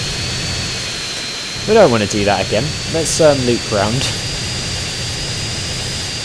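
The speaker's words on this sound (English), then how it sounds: "Apologies, by the way, if you can't hear me very well because of how fast and loud this plane is" A plane's engine roars steadily throughout a GTA San Andreas airport race, a loud constant drone with a high whine, while someone talks over it in the middle of the clip.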